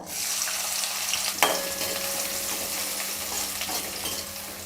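Chopped onion sizzles and crackles in hot oil, a steady frying hiss with a brief clatter of a utensil partway through.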